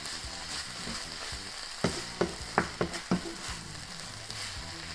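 Kimchi, pork and vegetables fry in a pan for tofu kimchi, a soft continuous crackling sizzle broken by a quick run of clacking taps and stirring knocks near the middle.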